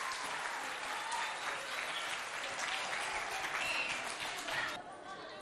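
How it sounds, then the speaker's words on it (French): Audience applause at a school event in Mao, a dense, steady wash of many hands clapping close by that carries loudly throughout and eases slightly near the end. "je vous invite à applaudir très très"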